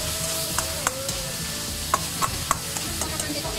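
Meat sizzles in a Chinese wok with garlic, a close steady frying hiss broken by several sharp clinks and scrapes of a utensil stirring against the metal.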